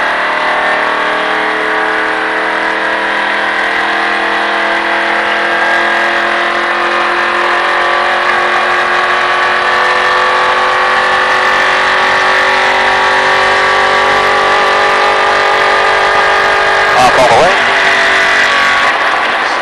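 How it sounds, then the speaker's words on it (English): Car engine held at a steady drone and then given gas, the pitch rising smoothly with a brief surge near the end, loud and close from inside the vehicle. "All right, give it some gas."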